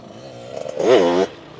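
A motocross dirt bike engine idles, then revs sharply as the clutch is dropped in second gear for an off-road launch. The rev is a loud, close, rising whine that holds briefly and then cuts off.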